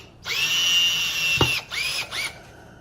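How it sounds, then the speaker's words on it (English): Power drill driving bolts to attach a guitar neck during a guitar build: a loud sustained whine of about a second, then two short bursts, close to the microphone with no talk. "And here we are finally bolting on the neck."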